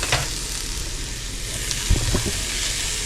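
Ingredients for beef Wellington sizzle steadily in a hot pan, a constant hiss with a few soft knocks and scrapes of stirring near the end.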